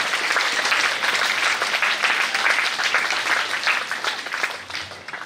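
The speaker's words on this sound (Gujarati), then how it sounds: "ફરી એકવાર જોરદાર તાળીઓ થઈ જાય" Loud, sustained applause from an audience at a school award ceremony, a dense wash of clapping that holds steady for the whole stretch with no talking over it.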